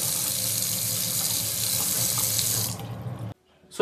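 Water gushes steadily from a repaired faucet into a sink, loud and close, then tapers off and stops abruptly near the end as the tap is shut.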